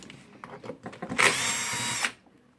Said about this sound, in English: now I will remove the handle. So 2 screws here and 2 screws here.